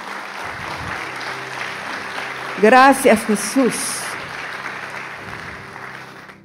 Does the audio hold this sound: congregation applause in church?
yes